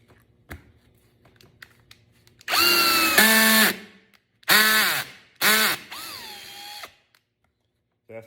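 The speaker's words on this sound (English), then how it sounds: "Now let's put it on drill. Let's see if we can snap the head of this screw off." A power drill in drill mode drives a screw into wood, with several whining motor bursts of a few seconds each that rise and fall in pitch between short pauses, loud and close.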